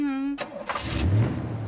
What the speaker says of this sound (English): Get the engine started.